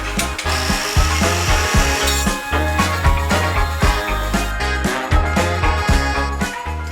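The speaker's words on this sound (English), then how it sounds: "he's helping us with this angle grinder because we decided that might be a little bit easier to take off these rivets" An angle grinder cuts off rivets on a van during a camper build, a loud, close, continuous grinding with rhythmic pulses and harsh metallic rasping throughout, no voices.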